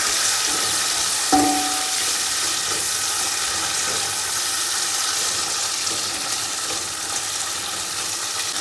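Food frying in a pan with steady broadband sizzle throughout, one brief sharp clink near the start, no talking.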